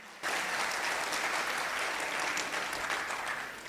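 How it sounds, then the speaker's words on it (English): At a governance summit, an audience bursts into loud, dense applause that starts abruptly and holds steady for several seconds before easing slightly at the close. "A huge round of applause"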